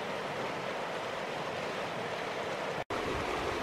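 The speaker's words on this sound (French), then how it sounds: "Je vais au moins vous montrer les rapides avant de partir." River rapids on a cold day before the snow make a steady, dense rush of water throughout, loud and unbroken apart from a momentary cut near the end.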